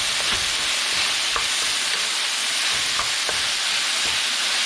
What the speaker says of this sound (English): now start stirring